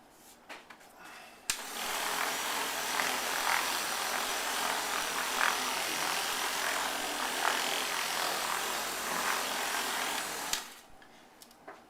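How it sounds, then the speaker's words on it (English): A buffer spins on a granite countertop over a microfiber towel, giving off a steady whirring, rubbing drone for about nine seconds, close and alone, starting and stopping abruptly. "Turn on your buffer and just let it spin."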